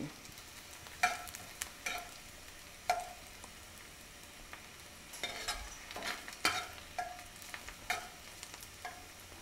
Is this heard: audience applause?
no